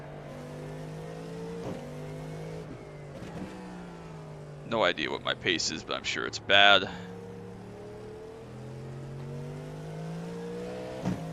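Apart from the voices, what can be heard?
race car engine in iRacing video game, IMSA Daytona car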